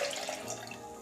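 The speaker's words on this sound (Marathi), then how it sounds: "मी इथे 3 बाऊल पाणी जे आहे ते घालून आणि शिजायला घालणार आहे मी" Water poured from a bowl into wheat grain in a pan for cooking kheer, a brief soft splashing pour that is fairly faint and close, with no talk.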